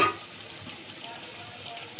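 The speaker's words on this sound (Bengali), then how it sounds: "মশলাটার সাথে সাথে আলু বড়িটাও একসাথে কষিয়ে নিই।" Potatoes and pea-lentil bori are stir-fried in tomato masala. A steady close sizzle runs throughout, with soft scraping of the stirring spoon in the pan.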